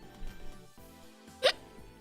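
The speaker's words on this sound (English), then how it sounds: "I've had the hiccups like all day." A single short hiccup cuts through a quiet room, with a soft voice murmuring in the moments before it.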